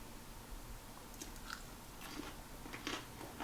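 Crispy Cajun-spiced fried chicken is bitten and chewed, with several faint, close crunches in a quiet room.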